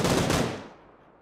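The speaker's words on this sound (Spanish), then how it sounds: "Son tiros, son tiros." A rapid burst of video game gunfire, loud and close, rattling for under a second before trailing off into a fading echo.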